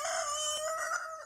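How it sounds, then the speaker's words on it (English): A rooster crows once in a long, drawn-out call, close and clear against a quiet background. "A rooster crowed."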